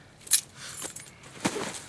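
A couple of brief metallic jingles of Jeep car keys being handled, close by and fairly quiet, with soft rustling between them.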